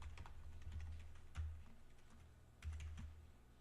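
Keyboard typing a CSS class name into a paragraph, a few soft scattered keystrokes in short bursts, fairly faint and close, with no talk.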